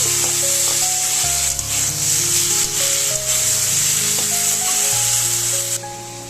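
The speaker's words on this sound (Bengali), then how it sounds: "আর এই কড়াইতে আলুগুলো দিয়ে রান্না করবো সেগুলো আমি একটু ভাজা করে নিচ্ছি" Potatoes fry in a kadai, a bright continuous sizzle close by, partly masked by a louder melodic music track playing over it.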